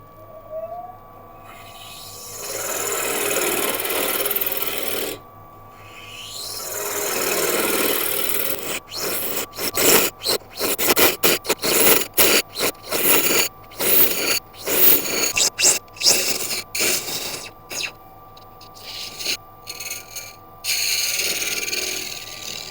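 Grass tree wood being hollowed on a spinning lathe: a steady scraping whir, then a run of rapid, choppy bursts as the tool bites in and out, with no talking.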